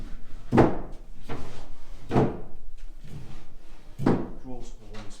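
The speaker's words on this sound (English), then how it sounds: "That door is opening and locking." A door on a 1930s East German knockdown pine wardrobe opens and latches, making three or four loud, close wooden knocks and clunks spaced about a second apart, with quiet sounds between them.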